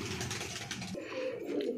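Pigeons of the Punjabi malwai breed coo close by in a low, throaty, repeated rolling call, with a second softer burst following the first, clear and without speech.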